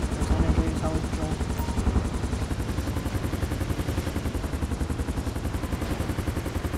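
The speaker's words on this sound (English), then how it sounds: "I actually installed a brand new police helicopter." Rapid rhythmic chopping of a police helicopter's rotor blades with a whining engine in a video game, steady and loud throughout, with a voice speaking over it at the start.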